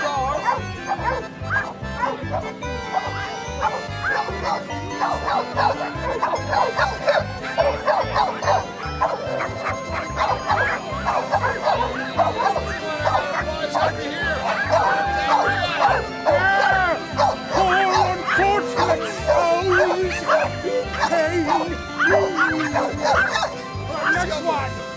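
Many dogs at an outdoor Oktoberfest gathering yip, bark and whimper almost nonstop, the noise loud and crowded and mixed with human voices throughout.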